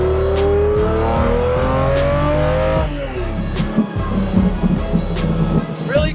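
A Lamborghini Diablo GTR engine revs hard and climbs in pitch on a racetrack, then drops off into a lower burbling rumble with some rattling, loud and close throughout.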